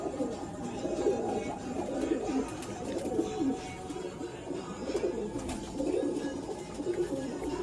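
Pigeons kept in a loft give soft, low cooing that runs steadily and overlaps throughout, near and moderately loud, with no talking.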